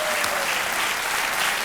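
Studio audience applause on a TV quiz show for a contestant, a dense, continuous wash of clapping that fills the room and stays loud and even throughout.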